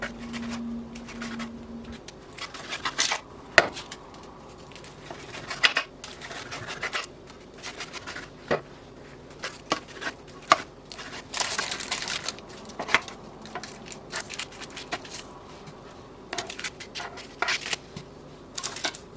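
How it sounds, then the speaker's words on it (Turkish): Repeated crisp knife cuts tap against a board at irregular intervals, close by, as a baked spinach dish is cut into large squares, with no talking. "büyük kareler halinde kesiyorum"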